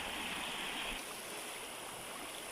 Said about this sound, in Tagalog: malalakas din po yung agos po ng tubig dito